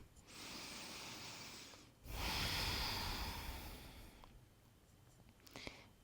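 Deep breathing during a yoga squat (Malasana), two long, close, airy breaths, a steady inhale or exhale followed by a louder one, then quieter soft breath sounds with no speech.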